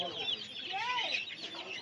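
Chickens cluck at the Saturday hen market in Uluberia, several birds calling close by in quick, overlapping bursts over a steady crowded background.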